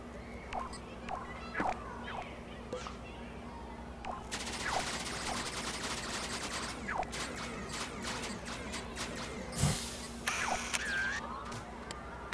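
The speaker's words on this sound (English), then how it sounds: "The Creatornator can fire anything you can dream of, and probably more." Creatornator weapon firing in LittleBigPlanet 2 on PS3, a dense stream of game sound effects with repeated sharp bursts, swishes and clicks over a steady background hum.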